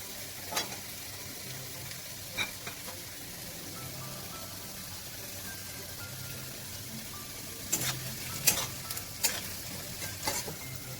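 Potatoes frying in a pan with whole spices, a soft steady sizzle with scattered crackles and a cluster of sharper pops and stirring clicks later on, no voices.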